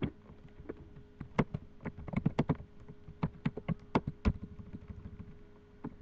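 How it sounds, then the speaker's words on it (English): Someone types on a computer keyboard in quiet, irregular clusters of clicking keystrokes, close by and soft, with no talk during the typing. "I'm just typing"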